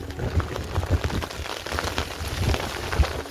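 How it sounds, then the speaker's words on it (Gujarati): Heavy monsoon rain pours down in gusty wind, making a steady, close patter of drops striking surfaces with occasional heavier thuds and no one speaking. "જો અરે પાછો આવ્યો વરસાદ"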